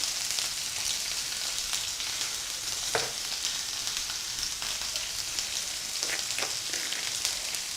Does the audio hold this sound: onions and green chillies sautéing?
yes